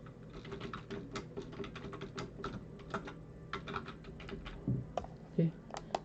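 Steady close typing on a computer keyboard while filling in a web form, a rapid irregular patter of key clicks running throughout, with a few heavier thumps near the end.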